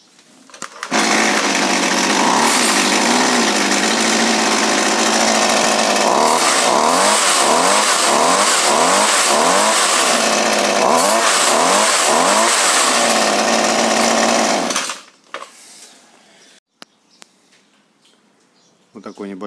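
Small petrol grass trimmer engine running steadily after carburetor tuning, a loud continuous buzzing two-stroke drone with several rhythmic revving surges in the middle, then cutting off abruptly near the end, leaving faint background sounds.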